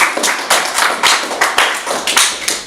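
Audience members at a slam poetry event clap in distinct, rhythmic bursts, sharp close claps repeating roughly every quarter second, loud and alone without talk.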